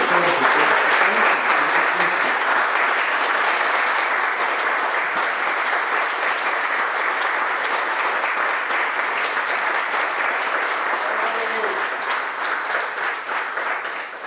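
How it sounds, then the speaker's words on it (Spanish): Sustained applause from an audience honoring Olympic walking world-record holder Daniel Bautista, steady and dense throughout, with faint voices underneath. "Daniel, un aplauso"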